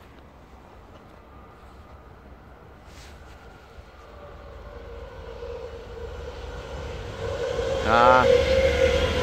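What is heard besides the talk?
train arriving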